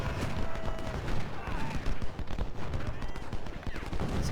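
Rapid crackling infantry musket and rifle volleys in the Civil War strategy game Ultimate General Civil War, dense overlapping shots firing continuously with short bursts and scattered pops throughout.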